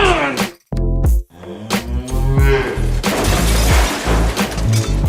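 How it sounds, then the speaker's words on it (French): Cows mooing loudly and up close, several long lowing calls one after another, with a brief crash and clatter early on. "Et voici comment des vaches ont réussi à ouvrir la fenêtre vers la liberté."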